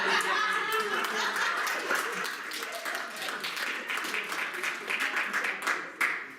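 An audience at a hypnotist show in a library gives a round of applause, dense clapping mixed with scattered chuckles and voices, fairly close and steady throughout.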